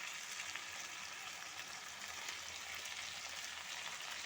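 Coriander and cumin powder sizzle in a hot pan while a Bengali dish cooks, giving a steady, even frying hiss that runs unbroken throughout with no voices.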